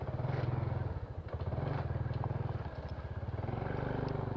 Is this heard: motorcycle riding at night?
yes